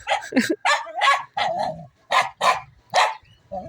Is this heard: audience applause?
no